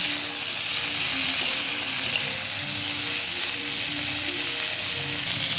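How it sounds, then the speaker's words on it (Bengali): Potato pieces and drumsticks sizzle steadily in a hot pan of oil, a continuous close frying hiss with faint occasional stirring clicks and no talking. "আলু আর ডাঁটাগুলো বেশ কিছুক্ষণ ভাজা হয়ে গেছে দেখলাম"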